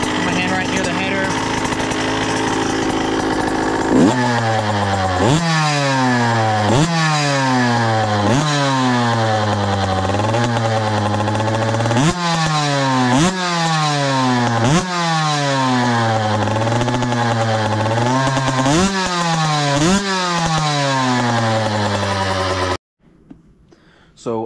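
A Husqvarna TC 85 two-stroke motocross dirt bike engine runs close by, revving in roughly ten repeated rising-and-falling blips after a steady idle, then cuts off abruptly near the end.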